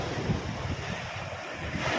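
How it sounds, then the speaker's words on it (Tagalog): Strong surf from a brown, debris-strewn sea during heavy rain, a steady broadband roar of surging waves and gusting wind buffeting the microphone, continuous and close with no clear individual breaks. "Lakas ng alon"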